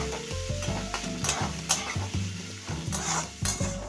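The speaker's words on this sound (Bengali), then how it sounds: "পেঁয়াজটা আমি একটু ভেজে নেব।" Onions frying in oil crackle steadily in a pan as a metal spoon stirs and scrapes against it in repeated close knocks, with no voices present.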